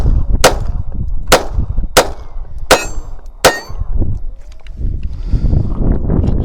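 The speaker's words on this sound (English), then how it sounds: "we're going to shoot the PPK one more time and do a mag change" A Walther PPK pistol fires five sharp, loud shots at a steady pace about a second apart, close by, followed by handling clatter and shuffling noise.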